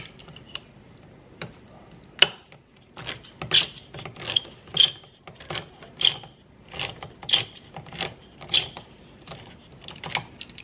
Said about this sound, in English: Let me get my can opener.